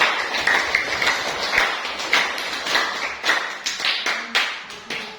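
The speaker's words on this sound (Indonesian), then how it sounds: "Kita berikan aplaus dulu." Classroom applause after a group presentation, a scatter of hand claps and taps from students over a roomful of background noise, uneven rather than a full ovation.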